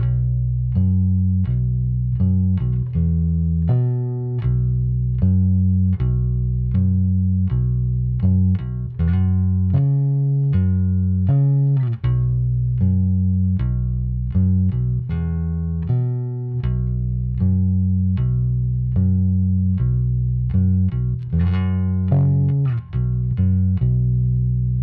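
A Fender Telecaster Type S electric guitar played alone at a steady level, with plucked single notes and chords in a continuous melodic line, bright attacks over sustained lower tones.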